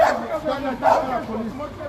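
A police dog barks and yips twice in short bursts amid a crowd at a protest outside an embassy, with people talking and shouting close by.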